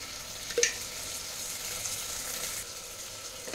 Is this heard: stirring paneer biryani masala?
yes